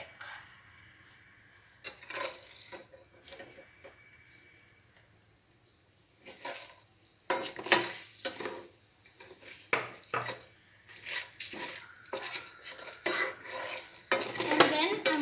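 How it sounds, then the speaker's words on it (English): Mango rice with turmeric is stirred and fried in a pan in an Andhra-style home kitchen, with a soft sizzle under repeated scraping and clattering strokes of a spoon against the pan, growing busier and louder toward the end. "So now it's getting fried."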